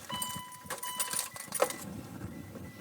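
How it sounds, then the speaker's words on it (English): Car keys jangle and click as they are turned in the ignition during a heater diagnosis, a few close metallic rattles and clicks followed by a faint chime-like tone, with no talking. "Turn on the keys."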